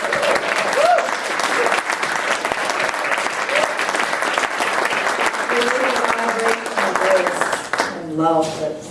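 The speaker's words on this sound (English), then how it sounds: "We should probably give an even bigger round of applause to our wonderful musicians" A full round of audience applause for two musicians at an event, steady dense clapping from a crowd throughout, with a voice breaking in faintly near the end as the clapping fades.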